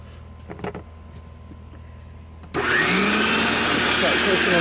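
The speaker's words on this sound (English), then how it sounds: "Just going to poke a bunch in there and then start grinding them." An electric food grinder starts up partway through, grinding cucumbers and charred red onions for relish, a steady loud motorized whir that drowns the quiet kitchen clatter before it.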